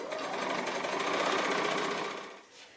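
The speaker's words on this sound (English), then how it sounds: "I've set the machine to the slightly longer stitch again, and I'm just going to come all the way around" Sewing machine quilting with a slightly longer stitch, a steady fast mechanical whirring with rhythmic needle clatter close by, running evenly before slowing and stopping near the end.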